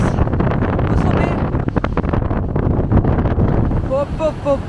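Strong wind buffets the microphone at a high, exposed summit in a steady, loud roar, with a voice speaking underneath it.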